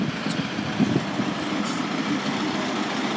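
A Class 158 diesel unit, 158812, rolls slowly into Manchester Oxford Road station, a steady low engine rumble with faint mechanical squeaks over the station ambience.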